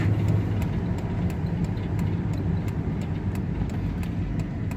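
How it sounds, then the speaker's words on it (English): A 2010 Dodge Grand Caravan SE wheelchair van with 202K miles cruises at highway speed on aftermarket cruise control, giving a steady, muffled cabin drone of road and engine noise with faint regular ticks and no talking. "This van runs and drives nice as it should."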